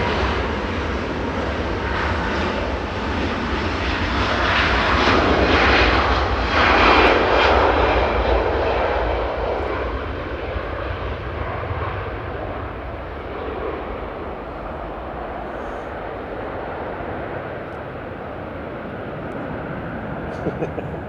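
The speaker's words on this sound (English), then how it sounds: "I'll let this Ryanair go past before I read it." A Ryanair airliner passes at Manchester Airport, its engine roar swelling to a peak in the middle and then easing away into a steady distant rumble, with a voice heard faintly beneath.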